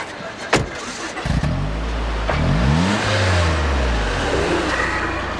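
A car engine cranks, catches and revs up, then settles into a rising drone as the car pulls away, preceded by a door-like thump, all close and fairly loud.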